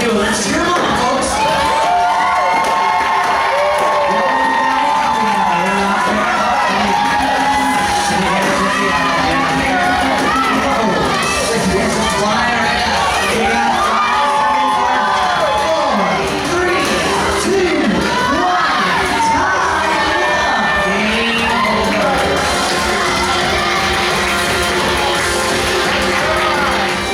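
A crowd of children at a Double Dare live show in Orlando cheers and shouts continuously, a dense wall of excited yells and whoops, with a host's voice cutting through now and then.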